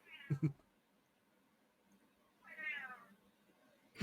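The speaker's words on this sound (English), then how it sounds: "Cat is on the outside of the room." A cat meows from outside a room, giving two separate drawn-out meows a couple of seconds apart, somewhat muffled and moderately distant, with a couple of soft thumps near the start.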